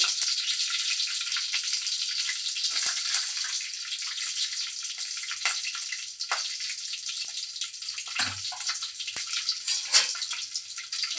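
Dried red chillies and garlic sizzle in hot oil for a garlic rasam, a steady bright hiss with occasional crackles and pops, close and continuous with no talk.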